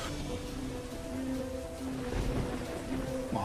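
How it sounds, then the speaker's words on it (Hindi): Steady storm rain pours down in a forest, a dense unbroken wash of drops that stays loud throughout, with no distinct thunderclap standing out. "ये बारिश तो रुकने का नाम ही नहीं ले रहा है"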